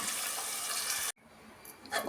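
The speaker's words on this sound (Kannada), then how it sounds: "ಜಾರ್ ತೊಳೆದು ನೀರು ಸೇರಿಸ್ಕೊತಾ ಇದ್ದೀನಿ." Running water splashes steadily from a tap into a mixer jar for about a second, stops abruptly, then a softer trickle and splash resume near the end.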